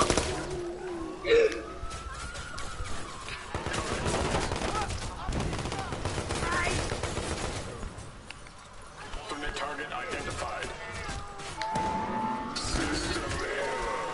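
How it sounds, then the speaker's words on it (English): Gunfire from a video game shooter, a few sharp shots standing out amid a busy mix of game sounds and music, with people talking over it. "I shot it 2 times in the head and it shot him."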